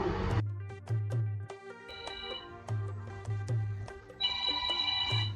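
A mobile phone ringtone plays a repeating electronic melody with a steady beat, loud and close, no voices present.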